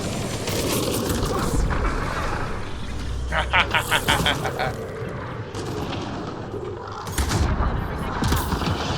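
Rapid bursts of sci-fi gunfire from a Mass Effect Andromeda firefight crackle steadily over a constant battle din, with a quick stuttering volley in the middle and heavier blasts near the end.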